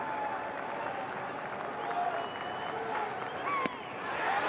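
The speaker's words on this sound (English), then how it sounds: "Big cheer from the K-State dugout as that one missed low and outside." Cheering and applause rise from the Kansas State dugout during a college baseball game against Arkansas, a moderate, crowd-like roar under ongoing stadium ambience, with a sharp crack near the end.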